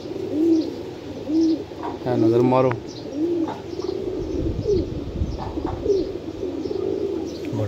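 Lakha pigeons with strong bones, kept by a breeder in Jhelum, coo in repeated soft rolling calls close by while someone talks over them.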